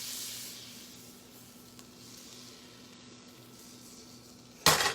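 Butter in a hot pan for chicken fried rice gives a steady soft sizzle, faint and continuous with a low hum beneath, then a sudden louder clatter right at the end.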